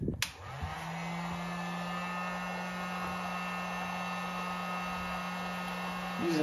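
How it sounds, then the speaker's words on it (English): A handheld heat gun blows steadily with a droning hum while warming plastic drip irrigation fittings in a garden, running alone at close range from start to finish, with a brief clatter near the start. "Using this heat gun to heat these fittings up"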